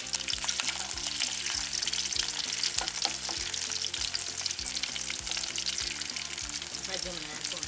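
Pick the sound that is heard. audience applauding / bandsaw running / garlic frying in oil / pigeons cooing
garlic frying in oil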